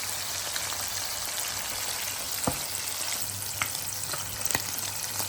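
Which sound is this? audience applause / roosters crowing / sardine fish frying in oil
sardine fish frying in oil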